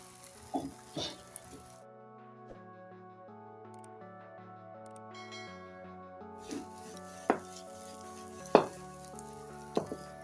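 Mooli paratha fries in oil on a pan with a steady soft sizzle, punctuated by several sharp scraping and clinking hits from a utensil against the pan, close and moderately loud.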